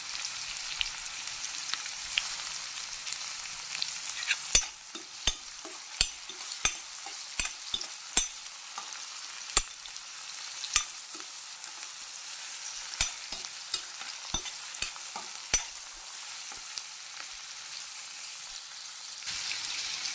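Onions fry in a pan for a crab sukka, a faint steady sizzle punctuated by irregular sharp taps and scrapes of a spoon stirring, close and quiet with no voices.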